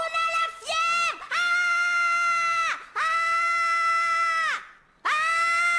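Cartoon characters screaming loudly for help, several long sustained high-pitched shrieks in succession with brief breaks between them, very loud and close.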